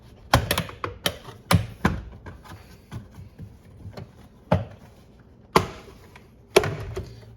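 A series of sharp plastic snaps and thunks, irregular and close, as a car trim panel is pried and pulled free, with quiet handling between.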